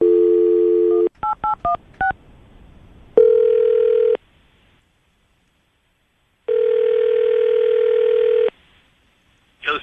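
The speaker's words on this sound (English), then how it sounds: "we'll call him right now, see if we can get him on the phone" Touch-tone keys beep in a quick burst of dialing on a radio show phone line, then long steady ringback tones sound twice with silence between, and a clipped sound cuts in at the end.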